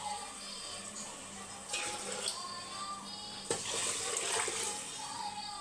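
Water is poured into a cooking pot over washed rice for ven pongal, with two splashing pours rising over a quiet kitchen background.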